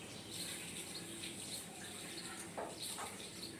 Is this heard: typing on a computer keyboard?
no